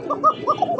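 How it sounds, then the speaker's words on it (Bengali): A domestic pigeon at a pigeon market coos in a quick series of soft, throaty pulses, close and clear, with faint background talk. "সেই একটা সুন্দর কবুতর, জনপ্রিয় কবুতর।"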